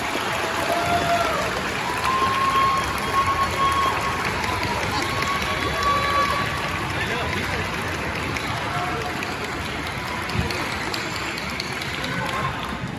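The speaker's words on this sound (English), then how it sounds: "can you give all of your family members that are here for you, listening to you, a huge round of applause" Sustained applause from parents and relatives in the audience at an elementary-school music festival after a combined orchestra of five schools' fifth-grade musicians, a dense steady clatter of many hands that fills the whole stretch at even loudness.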